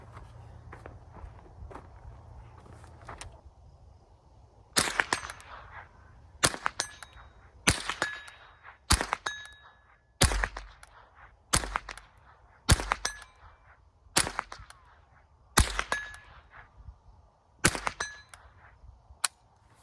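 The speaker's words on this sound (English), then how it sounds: "I'm just gonna unload the mag at the 50-yard gong and see if we can hit anything offhand" A Savage 62 .22 LR rifle fired offhand at a steel gong 50 yards out: about a dozen sharp cracks at a steady, unhurried pace, each followed by a bright metallic ring, with nobody speaking.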